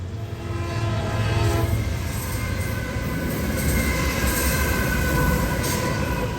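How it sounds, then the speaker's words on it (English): A heavy freight train rolls along mountainous track, giving a loud, steady rumble of wagons and wheels with horn-like tones early on, close and continuous throughout. "Even though these trains crawl along mountainous terrain"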